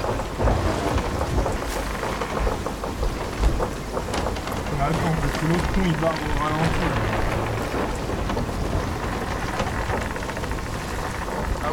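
Storm at sea in the pirate video game Sea of Thieves, with heavy rain hiss and low rumbling thunder rolling continuously beneath someone talking.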